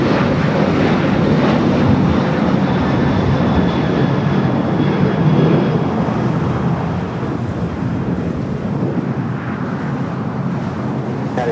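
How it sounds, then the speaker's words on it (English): Boeing 737-800 rolling down runway 25 right at LAX for takeoff, a loud continuous jet engine roar that holds steady and eases slightly toward the end, with no voices. "737-800, and now rolling down at 25 right"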